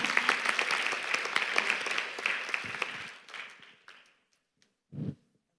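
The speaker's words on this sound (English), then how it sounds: "Can you all clap it up that my voice stayed strong?" Audience at a closing conference session applauding, a lively burst of many hands that swells briefly and then tapers off into near silence, followed by a single soft thump.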